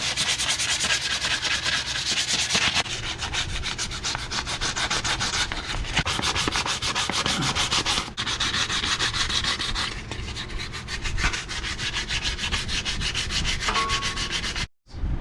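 Steady, continuous rasping of 220-grit sandpaper rubbing back and forth on a Brembo brake caliper, close up and fairly loud, with a brief pause near the end.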